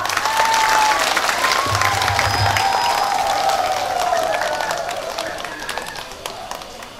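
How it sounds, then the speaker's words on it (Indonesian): Applause from a church congregation at a Catholic parish founding ceremony welcoming the bishop, steady dense clapping that holds strong and slowly fades toward the end. "Tepuk tangan."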